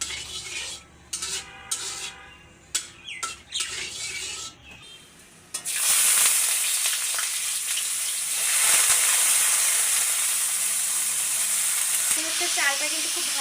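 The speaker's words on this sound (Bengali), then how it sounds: "এখানে গরম মশলা আর বাদামটা ভেজে নিচ্ছি আগে পোলাও রান্না করার জন্য।" Whole garam masala spices and nuts frying in a wok (kadai) before cooking pilau: a few clinks and scrapes of a utensil, then a loud, steady sizzle that carries on with occasional stirring scrapes, and no voices.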